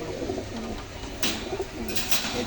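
Several pigeons in a pigeon shop at Khulna's Barobazar market give repeated low, rolling coos, close and fairly loud, over a busy background hiss.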